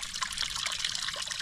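Natural spring water at a mountain campsite near rice terraces in Bagac, Bataan, trickles and splashes continuously, close and fairly bright, with no voices.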